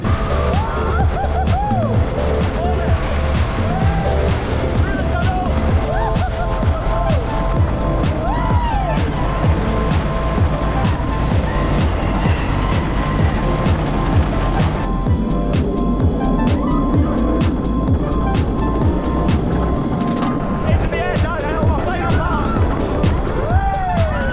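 On-ride recording aboard an Alton Towers theme park ride, with a steady loud rush of wind and rumbling track noise throughout, shifting pitch as the coaster swoops, and faint distant crowd cheering beneath.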